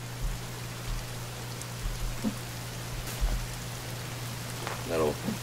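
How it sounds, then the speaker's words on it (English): Steady hiss of rain falling in the survival video game The Forest, an even broadband wash with a low constant hum beneath, soft thumps here and there and a brief voice near the end. "And we have rain."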